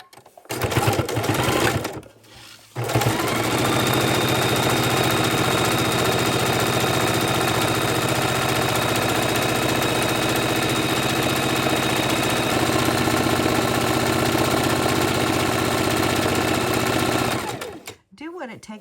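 A sewing machine lock stitching a tote bag, a brief burst of stitching, a short pause, then a long, steady, fast whirring run of needle strokes, close and loud, ending abruptly.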